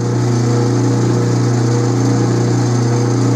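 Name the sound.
lathe taking a heavy cut in stainless steel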